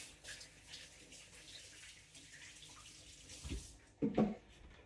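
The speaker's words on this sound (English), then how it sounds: "Wash my hands here." Running tap water splashes faintly as hands are washed at a kitchen sink, a soft continuous rush with a louder splash near the end and no talking.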